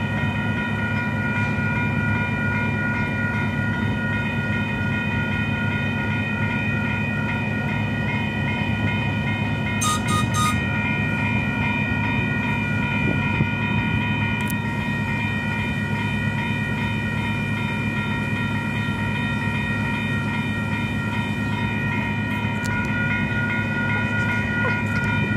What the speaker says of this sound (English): Oh, Amtrak's backing up.